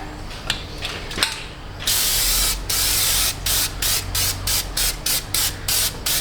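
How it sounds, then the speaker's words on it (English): Spray cleaner is spritzed onto the hub face of a Buick Enclave brake hub: a few sharp mechanical clicks, then a long hiss followed by a run of quick, evenly spaced spray bursts, close and loud. "spritz down the hub face, even though it has a magical coating on it"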